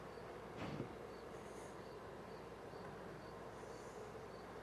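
Honey bees buzzing around the top of an open hive during an inspection in a nectar dearth and robbing season, a faint steady insect hum with a brief louder rustle near the start.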